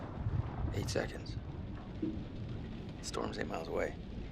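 Thunderstorm ambience from the video game Man of Medan, with steady rain hiss and low rumbling thunder throughout, brief sharper bursts rising above the wash; the whole soundscape is fairly quiet and carries no talk.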